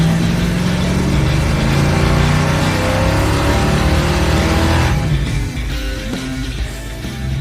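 A custom car's engine with an exhaust leak, revving loud and close with a rough, raspy drone that eases off slightly toward the end.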